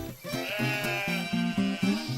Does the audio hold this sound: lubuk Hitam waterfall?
no